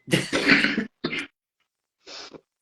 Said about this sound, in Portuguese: Desculpa, gente. A tosse.